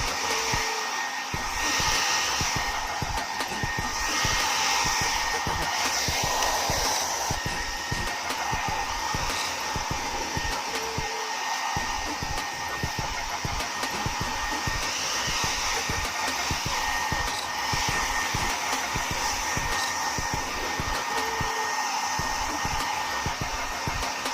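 A blow dryer runs continuously and loudly from start to finish while drying a pet, a steady airy roar with a faint higher whine.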